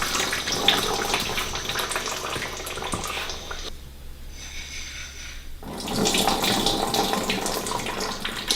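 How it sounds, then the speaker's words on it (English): Liquid crystalline glaze pours into a ceramic pot up to the rim, a steady splashing trickle that stops briefly and then resumes, close and clear with no voices. "And I pour right up to the rim so I can get this all glazed."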